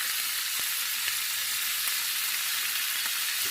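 Shami kebabs fry in oil in a pan with a steady, close hiss and soft crackles, continuous throughout with faint clicks and no voices.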